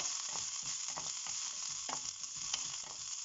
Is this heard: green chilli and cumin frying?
yes